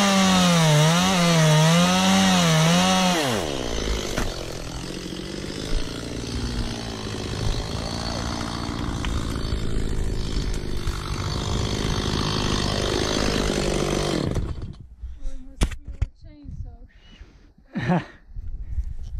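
A chainsaw revs high and whining, then bogs into a cut through an olive tree with a grinding roar; it cuts out near the end, leaving scattered knocks and rustling.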